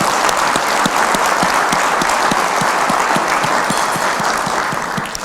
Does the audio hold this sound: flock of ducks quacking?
no